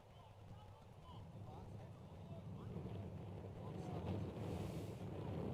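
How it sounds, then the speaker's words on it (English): Wind buffets the microphone at an outdoor soccer training ground during a youth academy match, a low, rumbling roar that grows steadily stronger, with faint, indistinct voices underneath. "See the wind beginning to increase again here at the Atlanta United training grounds"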